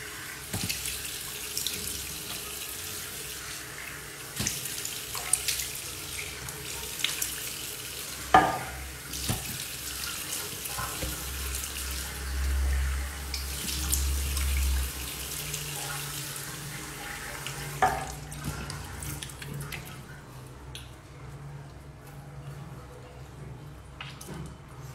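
Tap water runs steadily into a sink for a quick morning face rinse, a continuous splashing stream that carries on for most of the stretch with a few brief knocks and handling sounds.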